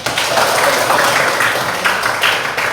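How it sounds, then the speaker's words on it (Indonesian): Students in an Indonesian classroom clapping together: a short, loud burst of many hands beating steadily, close by, with no voices over it. "Oke, bagus, tepuk tangan, ayo."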